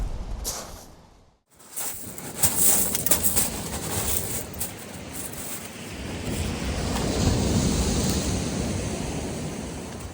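Sea waves wash steadily onto the shore at Cley next the Sea, a continuous broadband surf rolling and swelling, with wind buffeting the microphone and no one speaking.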